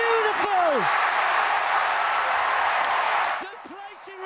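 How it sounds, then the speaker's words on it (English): A packed stadium crowd roars as Mo Farah wins the race for Great Britain's gold, a loud, steady wall of cheering, with a commentator's voice heard at the start and end. "just watch the crowd reaction to Mo Farah winning because it is one of the best roars in sport you will ever hear"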